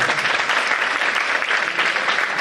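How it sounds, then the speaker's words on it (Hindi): Audience applause for a singer at a musical festival in Jalandhar, a dense, steady wash of many hands clapping close and loud throughout, with no voices over it. "अगर अच्छी लगी तो तालियों के साथ बताएं"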